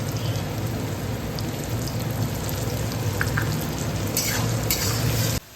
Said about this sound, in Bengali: 2টো বড় পেঁয়াজ কুচিয়ে রেখেছি, এবার এটাকে তেলের মধ্যে হালকা করে ভেজে নেব